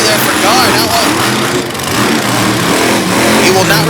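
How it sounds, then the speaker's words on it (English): At the starting line of a Little Valley, New York monster truck semifinal, an engine gives a quick throttle blip, a loud mid-pitched rev that swells and settles under an announcer's continuous commentary. "Little burp of the throttle there for Garr."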